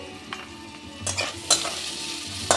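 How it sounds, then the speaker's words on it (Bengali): Ginger and green chilli paste stirred into potatoes frying in a pan, giving a steady soft sizzle with a few louder scraping stirs, close and alone without speech. "এবার আদা আর কাঁচা লঙ্কাটা দিয়েও অল্প একটু ভেজে নেব"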